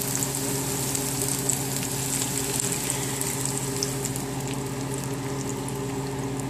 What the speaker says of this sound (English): So I'll go ahead and pour in the egg.